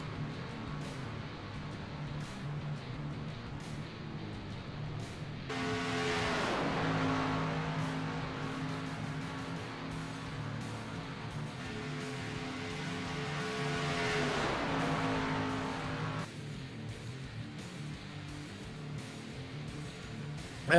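Xfinity race car engines at Talladega roar past in two loud waves during practice, revving high then fading, with a steady engine drone between passes and no talking.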